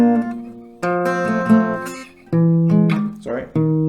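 Acoustic guitar picks out an alternative high-note melody for a song, a few short phrases of plucked notes with brief pauses between them, close and clear with no talking.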